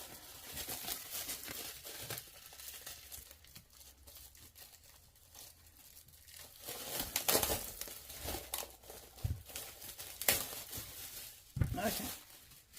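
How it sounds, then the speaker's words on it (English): Cellophane wrapper pulled and torn off a large-format art book: bursts of crinkling and crackling plastic, close and loud, with quieter stretches between and a voice speaking at times. "let's just take the cellophane off here"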